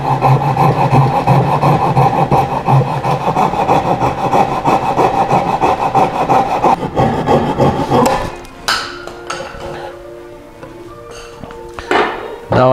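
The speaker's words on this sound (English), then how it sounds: "So we got to cut this out now with a coping saw." A coping saw cuts by hand through a wooden step stool panel, giving steady rapid rasping strokes for about eight seconds before the sawing stops and a few scattered knocks and handling clatters follow.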